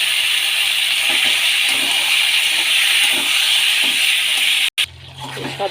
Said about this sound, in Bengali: এবার মশলা মাখানো মাংসটা সব দিয়ে দেবো